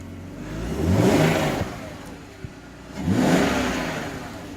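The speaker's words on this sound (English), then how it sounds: "So I'm just going to give you guys a few revs." Car engine fitted with a short ram intake revved twice, each blip rising to a loud whooshing roar with intake suction and falling back to idle in between.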